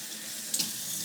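Parsley rinsed under a running kitchen tap, a steady soft hiss of flowing water with a brief splashy flick partway through, fairly quiet and close.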